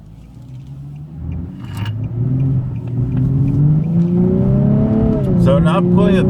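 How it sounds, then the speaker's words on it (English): A 2016 Nissan 370Z Nismo accelerates hard in a test drive, its engine note rising steadily in pitch as revs climb through gears, loud and close from inside the cabin, with a brief shift near the end. "you can see how quickly this car has accelerated"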